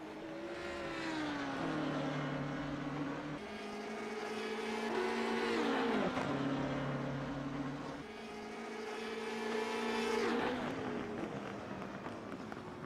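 Several Porsche GT3 race car engines in a sim racing game at Spa-Francorchamps, steady loud drone with pitch rising and falling through gear changes as one car pulls out of the pits, no talking over it.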